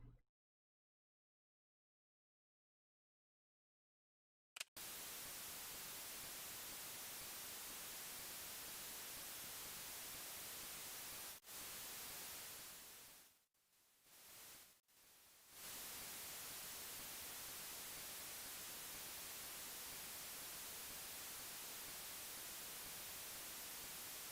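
Loud, steady radio static in the video game Last Window: The Secret of Cape West hisses for most of the clip after a few seconds of silence, briefly cutting out twice before returning.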